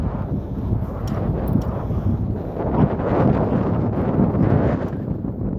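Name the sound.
wind blowing with a flag waving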